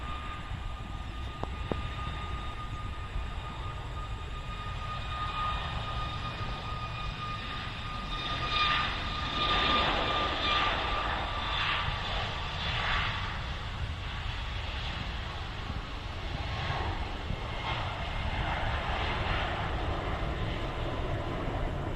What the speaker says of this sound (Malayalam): ആ ഫ്ലൈറ്റ് പൊങ്ങുന്നു തോന്നുന്നു